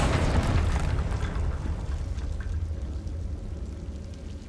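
A Confringo blasting spell explosion from Hogwarts Legacy erupts with a deep, loud boom right at the start, then decays into a long rumbling, crackling tail that fades over several seconds.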